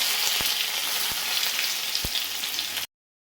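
Onions sauté in hot oil with mustard seeds in a kadhai for matki usal, giving a steady, close sizzle with a few low knocks of a spatula before the sound cuts off abruptly.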